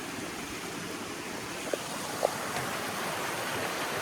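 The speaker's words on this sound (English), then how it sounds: "Lots of water coming through" Fred Creek's high water rushing under a new bridge in Canadian backcountry, a steady broadband roar of flowing water with no talking, interrupted only by a couple of faint brief ticks.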